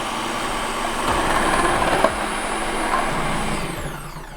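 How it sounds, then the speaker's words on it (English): A Ninja PrecisionPro food processor runs its slicing disc through a cucumber, giving a loud, steady motor whir and grinding hum that holds for a few seconds without talk. "we're gonna flip it over and see if we can perfectly slice a cucumber into thin slices"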